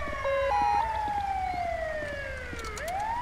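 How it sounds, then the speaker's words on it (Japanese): An ambulance siren wails up close in Grand Theft Auto V, its tone sweeping down and then rising again over a low engine hum. "お、救急車来たね。"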